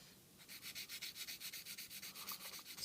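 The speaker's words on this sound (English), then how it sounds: "So I'm just sanding that away." Quick rhythmic rasping strokes of a sanding stick on hard plastic, steady back-and-forth scrubs on a model cockpit part, close and quiet with no talking.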